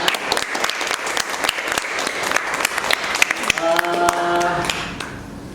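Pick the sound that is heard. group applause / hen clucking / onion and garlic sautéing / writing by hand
group applause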